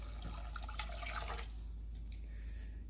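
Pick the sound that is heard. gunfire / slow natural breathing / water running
water running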